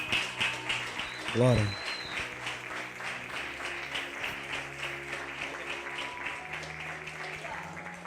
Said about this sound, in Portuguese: Quem pode aplaudir a Jesus mais uma vez?